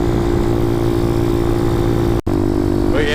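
Motorcycle engine fitted with a 34 millimeter carburetor running steadily with a strong, even drone, loud and close, broken by one abrupt momentary cut near the end before it resumes.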